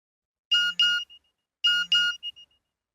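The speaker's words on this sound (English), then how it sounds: "My mobile phone beeped." A short electronic beep melody plays twice, a pair of bright tones followed by a quick chirp, clear and close in a quiet room.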